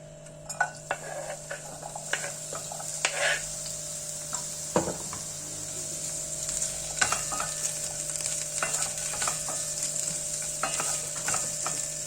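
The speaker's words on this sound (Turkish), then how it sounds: "Arada karıştırarak biberleri kızartıyorum." Peppers fry in sunflower oil, sizzling steadily in a pan while a utensil scrapes and clinks against it in irregular stirring strokes, close and moderately loud.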